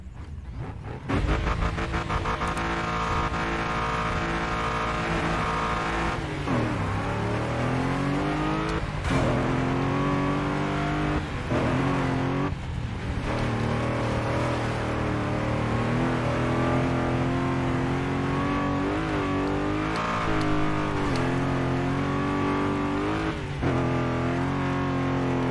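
Rally car racing in the video game DiRT 2, X-Games Europe event, a loud close engine revving steadily through gear changes with rising and falling pitch sweeps and brief tire noise, continuous throughout, no talking.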